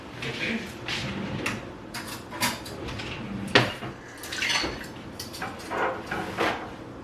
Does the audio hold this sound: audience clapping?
no